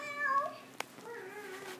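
A domestic cat meows alone in a quiet space, first a drawn-out wavering call, then a short sharp knock, then a second softer, lower meow trailing off.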